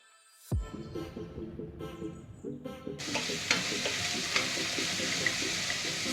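Beef for a Kerala-style beef varattiyathu frying in a pan with two large chopped onions and small onions, starting with a sharp sizzle that swells into a steady, loud crackle while the mixture is stirred close by.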